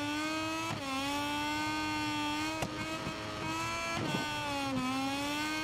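A racing motorcycle in the MotoGP 23 video game revs and accelerates with a steady, loud engine whine that climbs in pitch, dips briefly for gear shifts, and then climbs again, heard alone without talk.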